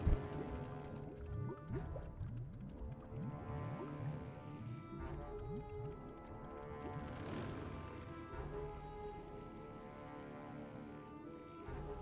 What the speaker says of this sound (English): What's funny is you can actually hear the bubbles going